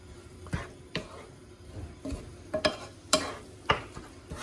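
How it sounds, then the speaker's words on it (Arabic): A utensil stirs quiche filling made with fresh cream and cheese, giving soft scraping swirls and a handful of sharp clinks against the bowl at an irregular pace, close by and with no talk. "صافي، نخلطو كلشي بحال هكايا حتى يتخلط مزيان"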